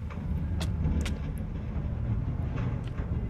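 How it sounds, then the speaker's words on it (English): Minecart carrying a pig rolls along rails in Minecraft, a steady rumbling clatter with faint clicks, continuous and fairly close, no talk over it. "So now I have a pig in the cart, and I can go."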